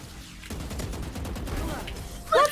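Gunfire in a video game played with a Model O mouse, a dense rattle of rapid shots running through the whole stretch, with a brighter burst near the end.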